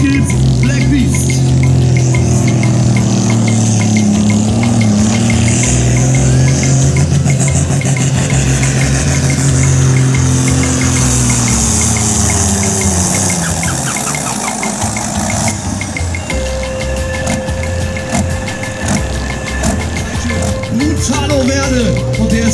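Black Beast, a 5.5-tonne turbocharged diesel pulling tractor with huge torque, roars loudly at a tractor pull in Schlechtenwegen, its heavy engine drone rising and falling continuously under crowd noise and announcer talk.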